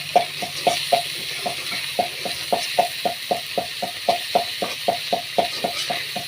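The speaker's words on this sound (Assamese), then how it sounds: "এতিয়া আমি আকৌ লৰাই দিম।" A spoon stirs food frying in a pan during home cooking of a fish dish with salt and onion, giving a steady series of evenly spaced scraping taps over a soft sizzle, with no talk.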